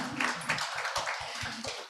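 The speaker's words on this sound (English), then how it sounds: "you're getting applause in the room" Applause in a lecture room after a talk on decolonial praxis and health, a light patter of claps that is faint and somewhat distant, carrying on steadily without voices.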